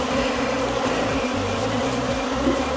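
Honeybees buzz around a hive on a farm, a dense steady drone with many overlapping wingbeat tones, loud and close, with no voices.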